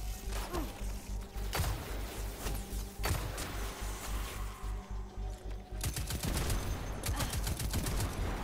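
Shotgun gunfire in the Destiny 2 video game: repeated loud, sharp blasts in irregular bursts amid dense combat noise and crashes, with rapid clustered shots toward the end.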